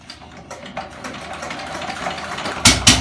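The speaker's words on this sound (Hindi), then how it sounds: "इंजन स्टार्ट कर दिया भाई ने।" A vehicle engine starting at a service station, a steady mechanical running hum, then two loud bursts near the end as it catches.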